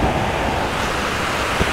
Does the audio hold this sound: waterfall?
yes